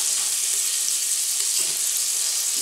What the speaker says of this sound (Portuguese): Enquanto eu vou refogando aqui, a água vai fervendo.